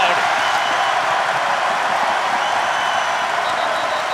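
Large stadium crowd at a college football championship game, UCF Knights at Tulane Green Wave, roaring and applauding in a steady wash of noise with a commentator talking over it.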